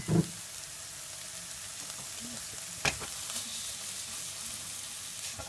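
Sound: bean sprouts stir-frying in a pan

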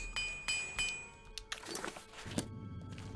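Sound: repair hammer repairing glass short sword in Oblivion video game

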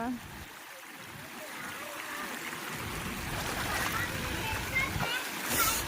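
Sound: floodwater flowing after heavy rain

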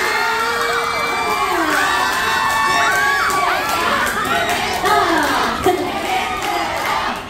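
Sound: cheering crowd of supporters at cover dance contest

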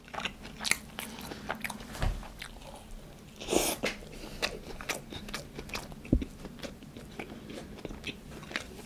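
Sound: biting and chewing a Burger King burger

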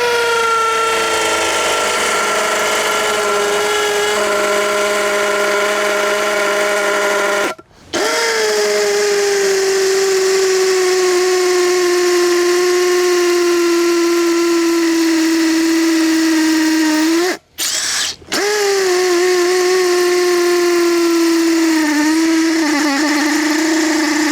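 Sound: Stanley Fatmax SBD716D2T cordless hammer drill drilling concrete, 8 mm bit

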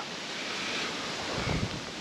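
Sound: wind blowing outdoors at a lakeside campground

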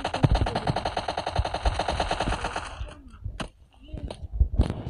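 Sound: gunfire in video game PUBG Lite

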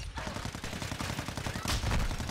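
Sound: sniper rifle firing in video game Call of Duty MW2

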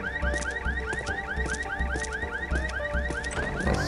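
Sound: car alarm in Land of the Dead video game

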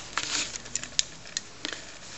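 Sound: TRS-80 Quick Printer II printing printer ready on paper

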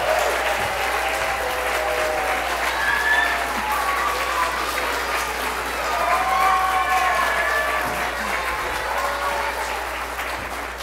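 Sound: applause

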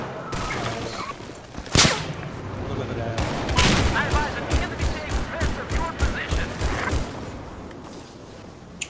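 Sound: sniper rifle gunfire in Battlefield 4 video game

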